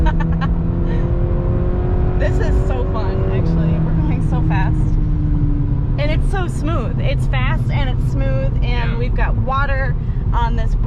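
A 2021 Cadillac CT4-V drives over a broken road with a constant engine and road rumble inside the cabin while people talk over it throughout.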